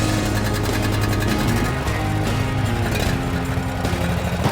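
A zero-turn mower starts up and settles into a loud, dense mechanical clatter and engine drone, steady and close throughout with no talk.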